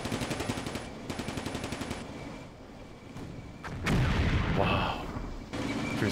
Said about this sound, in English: the machine gun is pinning this.